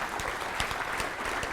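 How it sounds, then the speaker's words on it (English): Audience applause at a cosmology lecture, a short burst of dense, even clapping that fills the room at steady loudness, with no talk over it. "you should all applaud"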